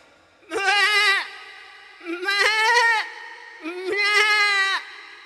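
A human voice mimics a big goat bleating, three long, wavering nasal bleats in a row with short pauses between, close and loud.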